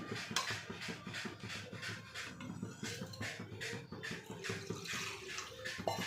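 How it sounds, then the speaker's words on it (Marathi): Water pours steadily into a pan of drumstick curry with a soft splashing rush, with light clinks and shuffling around it. "आता तुम्हाला जेवढं करायचं तेवढं पाणी टाका"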